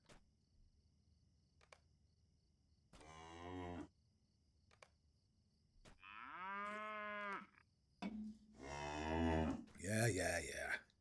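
A cow in the online fantasy game Lord of the Rings Online lets out several loud, close moos, long drawn-out calls separated by quiet gaps, with faint small clicks between them.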